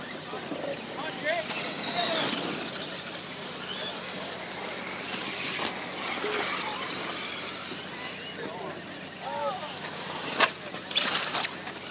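RC rock racing cars driving on a track at Glen Helen Raceway, their motors whining and buzzing continuously with occasional squeals, heard under a race announcer talking.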